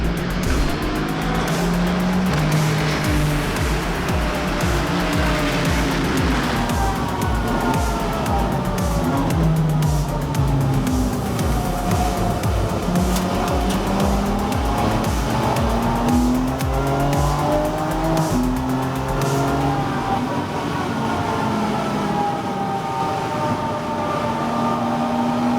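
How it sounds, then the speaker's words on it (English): Race cars charge downhill at the Nürburgring start of the 55th Adenauer ADAC Rundstrecken Trophy, engines roaring continuously with shifting pitch, tires squealing and cars sweeping past in a loud, dense stream. "The cars rush down the hill."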